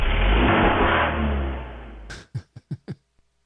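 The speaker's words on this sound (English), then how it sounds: "That was the car starting up at the end." A car engine revving steadily for about two seconds, loud and close, then cutting into a few short sputtering bursts as it fades to nothing, with no talk over it.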